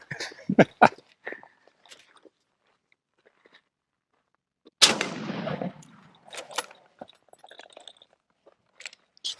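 One sharp, loud gunshot from a Mauser Model 1871 rifle rings out, followed by a decaying echo and some quieter clicks and bolt-handling noises around it.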